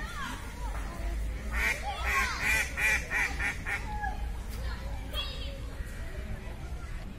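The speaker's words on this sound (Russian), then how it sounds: "Кормежка, кормежка для уток." Ducks at a zoo during feeding time give a busy run of quacks and honks, fairly close, with people talking and children's voices mixed into the outdoor crowd noise.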